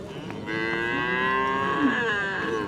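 A cow moos once at a livestock market, a long, loud, drawn-out low call lasting a couple of seconds, close by and clear.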